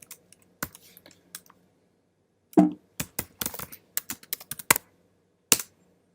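Close, crisp computer keyboard typing in irregular bursts of clicks separated by short pauses, in a quiet room with no talking.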